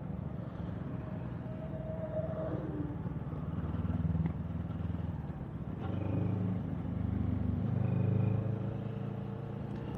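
An FKM Falcon X400 400cc parallel-twin motorcycle is ridden at steady, moderate revs, its engine drone continuous and fairly close, with wind noise and slight rises in pitch as it pulls along.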